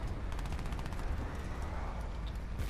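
Rapid gunfire in Crysis 3 multiplayer rattles steadily throughout, dense repeated shots blending into a continuous volley at moderate volume.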